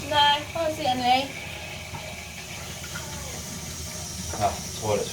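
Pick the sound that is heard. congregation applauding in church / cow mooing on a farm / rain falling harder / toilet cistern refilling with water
toilet cistern refilling with water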